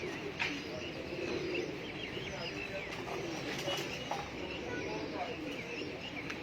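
Pigeons coo softly among light chirps against a steady outdoor background on a hot day, the calls faint and intermittent rather than prominent.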